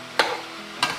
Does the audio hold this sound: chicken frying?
yes